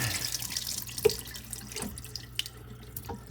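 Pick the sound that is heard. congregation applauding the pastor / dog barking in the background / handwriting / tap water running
tap water running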